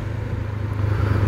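Honda CB500X motorcycle engine running while riding, a steady low droning hum that swells slightly toward the end, close and continuous with no talk.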